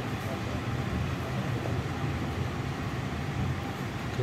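Rail cars at a station, on track seven, a K3065 coach on an Indonesian Motis train, rumble in a steady, loud broadband roar that holds through the whole stretch, with a low mechanical undertone and no clear breaks.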